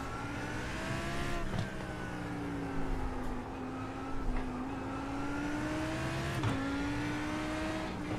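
A Lamborghini in the iRacing game roars at high revs, its engine note climbing and dipping steadily with brief shifts between gears, loud and continuous throughout with no talking.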